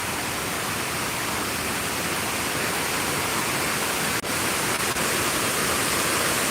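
A river diverted into a water feature beside a historic tobacco factory building rushes in a constant, loud, broadband roar like a waterfall, with a couple of brief clicks near the end and no speech.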